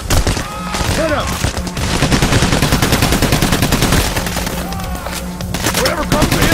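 Sustained automatic gunfire in the video game Payday: The Heist, loud rapid bursts filling the whole stretch, with shouting voices heard between and over the shots.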